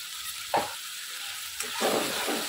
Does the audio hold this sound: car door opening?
no